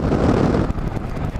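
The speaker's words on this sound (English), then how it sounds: "it's windy. Boy, is she windy out." Strong wind buffeting a microphone during a Yamaha Majesty scooter ride on a blustery day, a steady loud rumbling roar with no talking.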